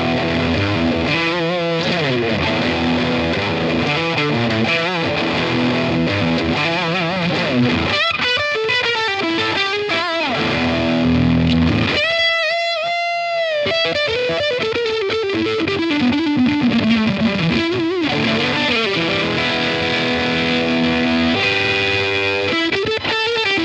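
An electric guitar with P90 pickups runs through a Cooltone Range Booster pedal with the boost fully up, giving a gritty, fuzzy, bright tone across a long run of riffs, chords and a brief pause for a sliding note.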